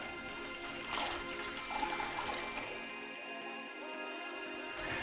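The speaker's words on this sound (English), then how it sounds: "Gonna add in my 3 litres of water." Three litres of water pour into a home-brew pot in a steady rushing stream with a gurgling, splashing texture that thins out toward the end, a quiet domestic sound with no talking.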